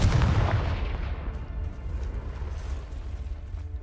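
A Confringo fire spell detonates in Hogwarts Legacy on PS5, a loud, heavy blast at the start that rolls off into a long, fading rumble, with no voices.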